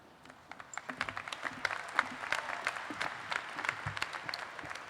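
An audience at a college ceremony claps for the faculty, a dense, steady round of applause from many hands that holds evenly throughout with no voices over it.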